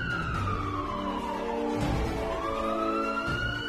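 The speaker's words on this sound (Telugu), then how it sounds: "అది అంబులెన్స్ సౌండ్లా ఉంది కదా?" A wailing emergency siren, likely police or ambulance, sweeps up and down in long continuous glides, loud and steady throughout with no voices over it.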